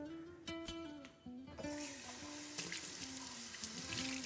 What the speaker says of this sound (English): get half a cup of water, but you want it warm